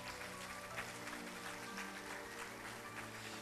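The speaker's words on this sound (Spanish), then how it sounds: "¿Cuánto le damos una ofrenda de palmas al Señor?" A church congregation gives a sustained, full round of clapping, a dense wash of hands that holds steady throughout, with music or voices faintly underneath.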